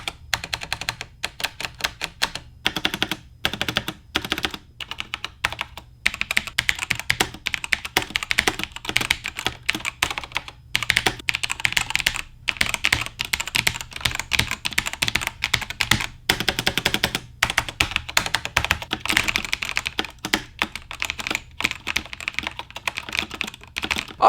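Fast, continuous typing on a Razer BlackWidow TE Chroma V2 keyboard with yellow linear silent switches, a dense close patter of soft key clacks with occasional brief pauses, no voices.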